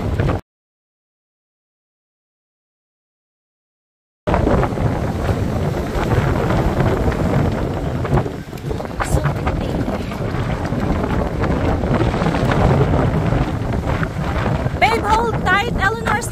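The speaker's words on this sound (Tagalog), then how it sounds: "Kahit mahangin." Strong wind buffets the microphone at a crowded beach near a long bridge, a steady roaring rumble that fills the clip after a brief silent gap, with faint voices underneath.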